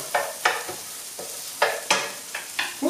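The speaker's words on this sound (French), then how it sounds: "tu auras des oignons, pas bouillis dans le beurre, mais juste cuits qui vont commencer à dorer" Onions cooking in butter in a pan are stirred, giving about eight short scraping strokes over a soft, steady sizzle, close and clear with no talk.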